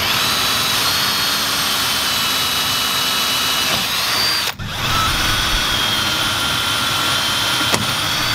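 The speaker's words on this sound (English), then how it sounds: "then we'll go up to a 1/2 inch hole." A power drill bores a half-inch hole into a lawn care trailer's jack, a loud, steady high-pitched whine that stays close and even. It breaks off for a brief moment partway through.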